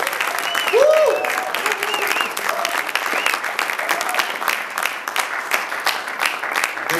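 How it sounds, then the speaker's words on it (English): Audience applause at an inspirational programme gathering, steady clapping from a crowd with a whoop early on and cheering voices mixed in. "Round of applause again for Linvoy and Primus."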